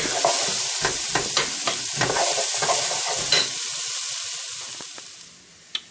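Carrot pieces fry and sizzle in a pan, with a steady broadband hiss and repeated scraping stir strokes through the first few seconds, the sizzle easing toward the end before a single sharp tap.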